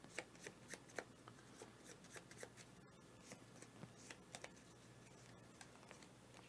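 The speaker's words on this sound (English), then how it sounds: "I'm going to shuffle these now that we've seen them" Game cards for the Ultimate Railroads board game are shuffled close by, making a quiet, steady run of rapid papery riffles and taps with no talking.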